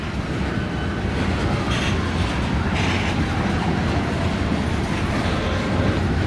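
Close, loud freight train rolling past, with a continuous heavy rumble of railcars and wheels, faint clickety-clack and occasional squeal, no voices.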